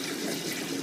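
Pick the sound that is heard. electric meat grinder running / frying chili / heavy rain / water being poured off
water being poured off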